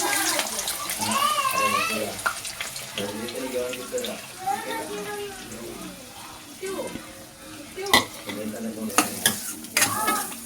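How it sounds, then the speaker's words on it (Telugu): Onions fry in plenty of oil in a pan for Bangalore-style chicken sukka, a soft sizzle under a person talking, with stirring clatters and scrapes toward the end. "ఇప్పుడు ఆనియన్స్ అనేది వేయించుకోవాలండి. మనం కొంచెం గోల్డెన్ బ్రౌనిష్ కలర్లో వచ్చేలాగా వేయించుకోవాలి."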